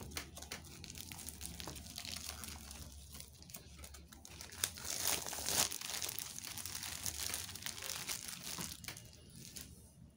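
Paper crinkles and rustles as a children's KG1 workbook is opened and its pages handled, faint close crumpling and soft crackles through the clip, louder around the middle, with no talk.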